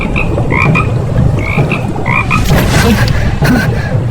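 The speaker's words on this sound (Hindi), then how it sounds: "तभी पीछे पानी में हल्की टर टर की आवाज हुई। एक हरे रंग का मेंढक" A green frog croaks repeatedly in short bursty calls near water in a Hindi cartoon story, close and loud, with a busy chorus of overlapping croaks and no voices.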